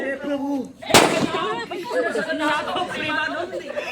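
A firecracker bomb bursts once with a sharp loud bang at a Diwali celebration, followed by excited chatter and laughter from several people nearby.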